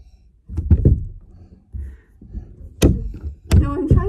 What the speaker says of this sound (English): No, don't close the door.